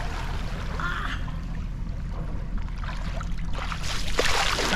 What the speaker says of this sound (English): I still wonder why the boat shoots out that bit of water.